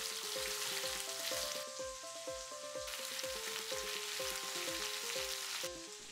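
Sliced ivy gourd and potato sizzle and fry steadily in a pan for a traditional stir fry, a constant crackling hiss beneath a light melodic music track.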